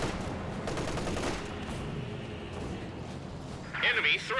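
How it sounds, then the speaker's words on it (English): Mortar hits in Company of Heroes 2 land as a series of muffled booms and rumbling impacts amid battlefield noise, with a louder burst near the end, all under steady commentary. "That was a lot of mortar hits there"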